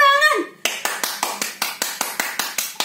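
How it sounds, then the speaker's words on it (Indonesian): Children at a church Sunday school clap hands together in a steady rhythm of about ten sharp, evenly spaced claps, right after a brief sung phrase at the start. "Tepuk tangan."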